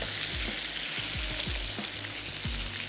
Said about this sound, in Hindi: ये हो रहे हैं फ्राई। यहाँ पर चीनी भी घुलनी शुरू हो चुकी है